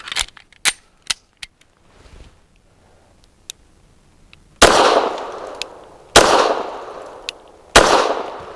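Sharp gunshots from a Rock Island Derya Arms Melik firing PPU Defense Line 147 grain jacketed hollow points: a few light clicks and thin reports at first, then three loud, evenly spaced shots, each trailing off in a long echo.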